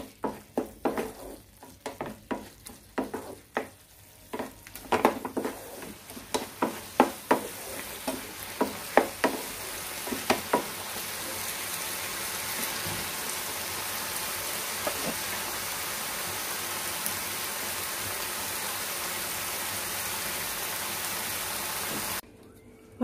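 Ridge gourd peel frying and being stirred in a pan: a string of close scraping stir strokes over a steady sizzle that grows into a continuous hiss and stays alone to the end, with no talking.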